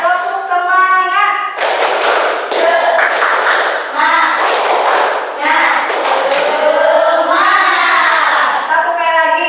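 A fifth-grade class performs a rhythmic spirit clap chant, bursts of patterned clapping and thumps alternating with children's voices chanting in unison, loud and close in a classroom.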